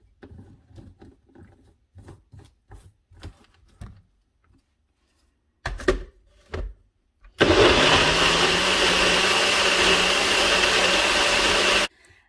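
A blender whirs through a thick smoothie with protein powder, starting abruptly after some clunks and handling noises and running as a loud, steady grinding drone for several seconds before cutting off.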